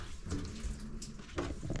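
Water keeps rushing steadily into a Maytag commercial washing machine whose fill valve will not shut fully off, a close, continuous splashing flow.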